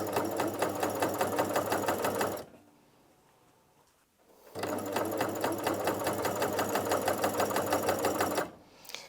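Two runs of a Janome CoverPro 3000 coverstitch machine, driven slowly by foot pedal, give a steady, close mechanical whirr and tick. It pauses for about two seconds, restarts, and stops again near the end.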